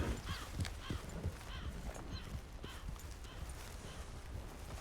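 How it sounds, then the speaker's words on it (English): Behind a player in a roleplay video game, a horse walks with steady clip-clop hoofbeats, close and moderately loud over a busy ambient background. "There's a horse behind us."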